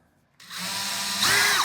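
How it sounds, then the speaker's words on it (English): A power drill bores pilot holes into drywall for mounting a TV. The drill starts abruptly, whirs at a steady pitch, then surges louder and higher before cutting off. "now I'll go ahead and drill"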